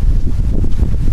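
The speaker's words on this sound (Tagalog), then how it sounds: "Grabe ang lakas ng hangin mga lodi." Strong wind buffets the microphone at a hilltop viewpoint overlooking a town, a loud low rumbling roar with uneven gusts and no talking.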